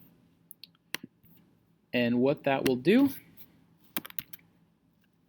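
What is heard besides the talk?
computer mouse click and keyboard key press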